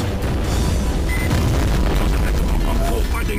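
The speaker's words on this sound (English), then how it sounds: "let's just sticky bomb the shit out of it" Sticky bomb blasts in the Shadow Warrior video game, a dense loud booming rumble over the whole stretch with someone talking over it.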